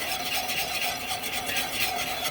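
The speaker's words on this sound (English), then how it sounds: "Now you have to whisk" A whisk scraping steadily through pan drippings as they turn into gravy, making a rapid, continuous rhythmic swishing and scraping against the pan, close and fairly loud, with faint sizzling underneath.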